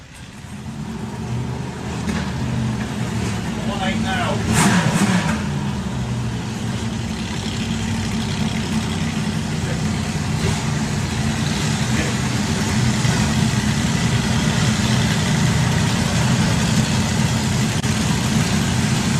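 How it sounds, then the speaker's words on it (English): Slingshot dragster engines at hot rod drags rumble loudly and continuously, a heavy idle with occasional rising revs, while a commentator talks over the din. "And first up is going to be Steve Heaven with the tight fit Slingshot going alongside Wrathchild."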